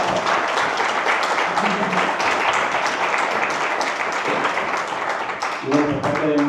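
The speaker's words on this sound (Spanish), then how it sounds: "Bueno, pues otro aplauso para Celia" Sustained audience applause for Celia fills the hall at the close of a museum conference on artificial intelligence, a dense, loud wash of clapping with voices mingled in and rising near the end.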